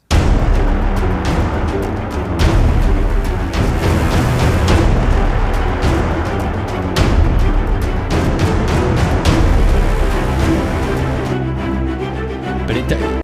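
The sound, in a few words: violins layered with violas, darker string texture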